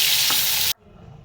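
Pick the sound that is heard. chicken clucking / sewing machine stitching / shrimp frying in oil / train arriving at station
shrimp frying in oil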